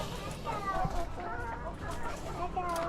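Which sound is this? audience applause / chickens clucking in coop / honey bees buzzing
chickens clucking in coop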